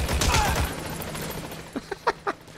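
A machine gun fires in Metal Gear Solid V: The Phantom Pain. A dense burst comes first, then four sharp separate shots follow near the end.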